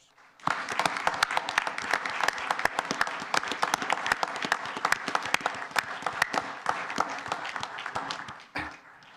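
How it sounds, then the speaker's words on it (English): A round of applause for the Palmer family at a village board meeting, many people clapping in a room with sharp, distinct claps that start abruptly, hold steady for about eight seconds, then stop. "So please, if you'd join me in a round of applause to the Palmers"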